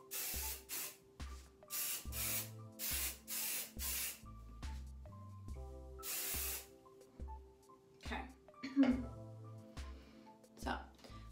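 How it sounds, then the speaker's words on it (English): Several short bursts of hairspray misted over freshly curled hair, loud close hisses in quick succession with brief gaps, while a person talks in between and over them. "We're gonna hairspray."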